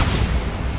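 Bombarda blasting spell explosion in the Hogwarts Legacy video game, a short loud dense burst of booming noise lasting under a second.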